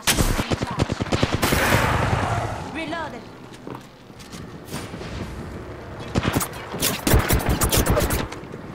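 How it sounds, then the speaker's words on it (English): Rapid bursts of automatic gunfire in a shooter video game, loud and close, broken by a quieter lull and resuming in sharp repeated shots, with a player talking over it. "I'm getting shot at"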